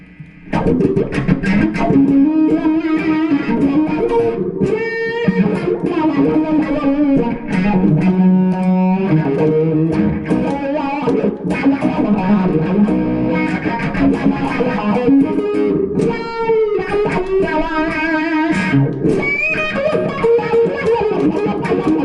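A heavily distorted electric guitar through a Gjika ADG pedal plays sustained riffs and bends with a sweeping wah filter, loud and continuous with no talking.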